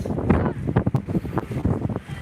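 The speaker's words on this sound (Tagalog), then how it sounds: "Mahangin talaga dito. Gandang hapon kapis ang lakas ng hangin." Strong wind gusts buffet the microphone at a seaside pier, producing rough, uneven low rumbling bursts, with faint voices mixed in.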